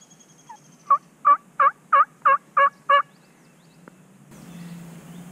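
Wild turkey gobbling in the woods, a loud rapid burst of seven rattling notes close by, then quiet, followed by a faint rustling rumble.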